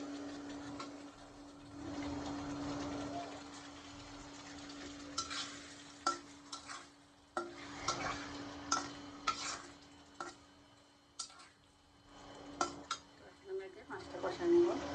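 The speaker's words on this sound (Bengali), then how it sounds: "মাছটা কষা নেব।" Hilsa fish cooks in a pan with ginger-garlic paste, cumin paste, cinnamon, cardamom and salt: a soft, continuous sizzle sits beneath repeated scraping and stirring knocks of a spatula against the pan, fairly quiet and close.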